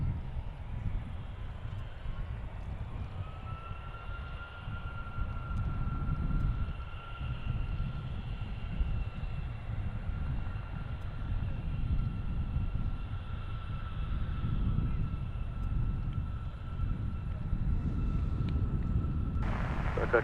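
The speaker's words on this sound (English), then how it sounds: "King Air, up and rolling." A King Air turboprop rolls down the runway at the CVG cargo hub in Cincinnati, a steady, distant engine rumble with a high whining tone that builds gently as it takes off.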